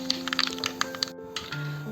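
Mustard seeds pop in hot oil in a pan, giving a quick scatter of sharp, close crackles and clicks over a background of sustained music tones.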